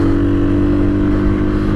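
Hero XPulse 200 4V motorcycle laboring up a steep mountain climb with no power, a steady, droning engine note held close and loud with no break.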